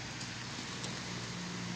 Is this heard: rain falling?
yes